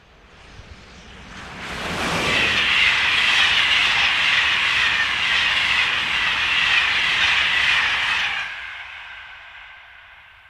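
French locomotive 26180 races past at speed hauling a passenger train, a loud rushing roar with hissing and rapid wheel clatter that swells in, holds for several seconds, then cuts away.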